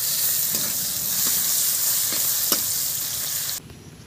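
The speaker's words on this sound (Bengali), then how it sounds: "এবারে আমি বেরেস্তা ভেজে নেব।" Sliced onion frying in hot oil for beresta gives a steady, loud close sizzle with a few faint stirring taps, then cuts off sharply near the end.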